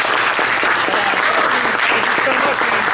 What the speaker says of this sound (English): Let's get a big round of applause for Brian K. Vaughan.